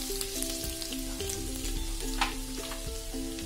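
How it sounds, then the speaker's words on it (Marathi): Garlic sautéing in a hot pan for a chicken sizzler, with a continuous close sizzle and crackle broken by occasional scraping stirs, no voices. "आता आपण याचा परतून घेऊया लसूण"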